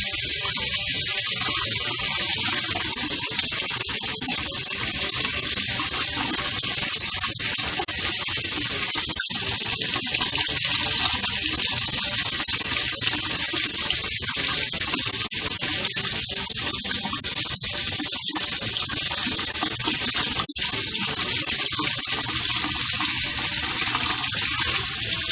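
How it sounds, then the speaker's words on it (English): Tap water runs steadily at a kitchen sink over a dollar-store glass being rinsed after etching cream, a continuous close hiss and splash lasting throughout with no talking. "Now I'm going to run it under some water."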